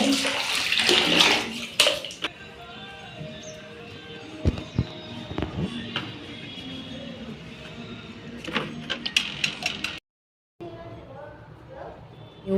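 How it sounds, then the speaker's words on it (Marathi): Water splashes and pours steadily onto potted plants, with a person talking nearby and a few knocks and clatters. "मी झाडांना पाणी टाकून देते झाडांना पाणीच टाकलं"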